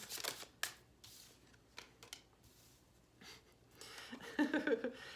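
Soft papery tarot cards shuffle in short bursts, with quiet riffling and tapping, then a brighter flurry near the end, close and faint.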